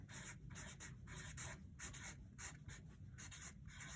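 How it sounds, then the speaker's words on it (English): Writing by hand with a pen on paper: a steady run of soft scratchy strokes in quick rhythmic bursts, close and faint, with no talking. "So I'm going to write"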